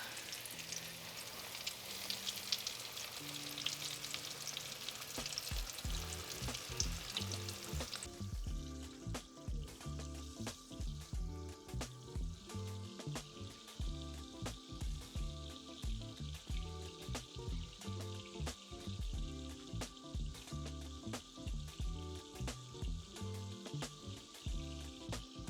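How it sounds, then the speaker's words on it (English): Pork chops fry in hot oil with a dense, continuous crackling sizzle that steps up in loudness partway through as more chops go in, steady and close throughout. "Other 2 chops go right in that oil."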